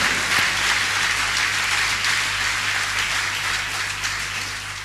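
A church congregation applauding during a sermon, a loud sustained wash of many hands clapping that carries on steadily for several seconds with a low hum underneath.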